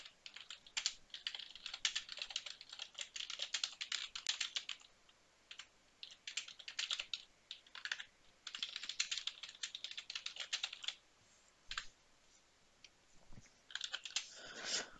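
Typing on a computer keyboard comes in bursts of quick, quiet clicks with short pauses between runs, close by and faint, with no voices.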